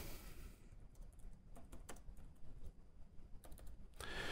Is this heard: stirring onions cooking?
no